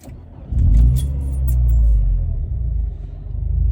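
A car engine cranks and catches after a brief pause, then settles into a loud, low rumbling idle close by, with a faint jingle of keys.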